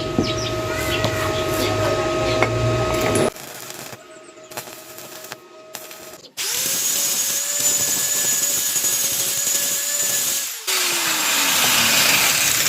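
An angle grinder works a welded steel side stand extension on a Honda TMX125 motorcycle, giving loud sustained whining bursts that break off, restart and wind down with a falling pitch.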